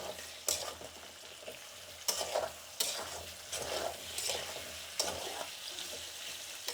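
A spoon stirs bitter gourd curry in a pan off the heat, with irregular scraping strokes and a faint sizzle underneath, close and fairly quiet, no voices.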